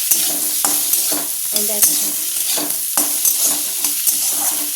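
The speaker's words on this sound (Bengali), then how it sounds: "আর একটু অল্প করে কলাতে তেল দিয়ে দিলাম" Banana pieces fry in oil in a home kitchen pan while a spatula stirs them, sharp scraping clinks over a steady sizzle, close and busy; a voice speaks briefly.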